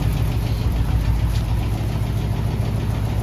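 A Jeep with an AMC 327 V8 and vigilante exhaust manifolds idles steadily with the clutch pressed in, a loud, close, continuous low rumble with a faint rhythmic ticking on top and no voices.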